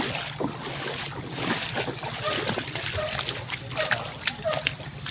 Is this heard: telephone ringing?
no